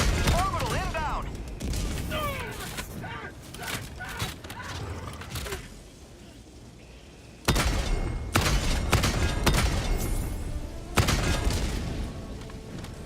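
Orbital strike explosions in the video game Helldivers 2 land as a run of heavy booms and thuds in separate bursts across the clip, loud and close, with a voice talking between and over the impacts.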